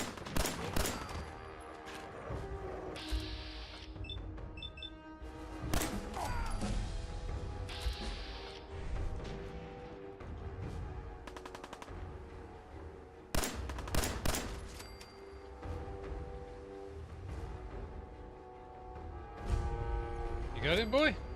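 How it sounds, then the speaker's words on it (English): Semi-automatic weapons firing in Fallout 4, with scattered sharp shots and short bursts among music and game sounds at a moderate distance. "I'm hearing semi-automatic weapons."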